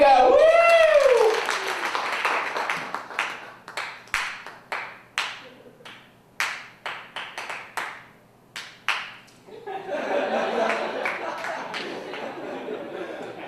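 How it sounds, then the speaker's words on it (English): An audience at a comedy show in a theater claps. A loud cheer opens it, then a run of separate claps and brief clapping bursts follows, and a swell of crowd chatter and applause closes it. "I want everybody to clap for about 2 seconds"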